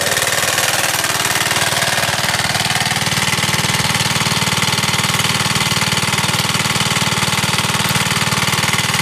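A Sears air compressor powered by a Briggs & Stratton engine runs steadily, a loud, close, continuous chugging drone with a faint rising tone partway through and no talk.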